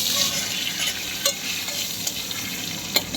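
Nigella seeds, whole cumin, a dried chili and a bay leaf fry in a little oil with a quiet, steady crackle, broken by a few light clicks of a spoon against the pan.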